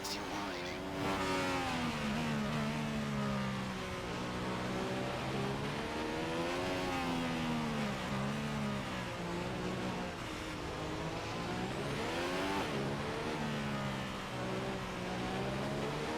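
F1 race car engines in the F1 2015 game at Monaco, a continuous high-pitched engine whine rising and falling with gear changes and acceleration, with a voice speaking throughout.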